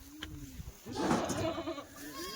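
A Kathiawadi goat kid bleats in one drawn-out, wavering call that swells loudly near the middle, with a few softer bleats and shuffling noise before and after.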